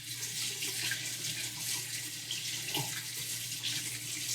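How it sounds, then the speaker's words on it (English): Pork shoulder being rinsed under a running kitchen tap, a steady, close, unbroken hiss and splash of water that lasts the whole time with no talking. "We're going to rinse it off because it's got a lot of salt and sugar on it."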